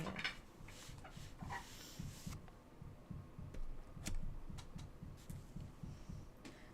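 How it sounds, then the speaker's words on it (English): A dog repeatedly thumps on the floor indoors in a steady series of low, rhythmic knocks, moderately close and fairly soft, continuing without pause. "He just sits there and beats the floor when he doesn't get his way"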